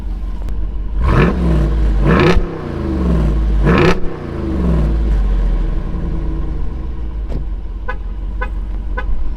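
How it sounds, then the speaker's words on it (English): A 2023 Jeep Wrangler Rubicon 392 Hemi V8 idles with a deep rumble through a quad-tip exhaust, then revs hard three times, each roar falling back to idle, followed by a few sharp throttle blips. "We got this quad tip exhaust system pumping out some of the Hemi music. Let's rev it up"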